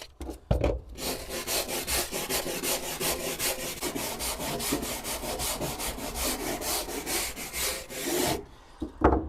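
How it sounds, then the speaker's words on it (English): A wire brush scuffs a wooden surface in quick, rhythmic back-and-forth strokes, a loud scratchy rasp repeating about twice per second for several seconds before stopping. "Use this here wire brush."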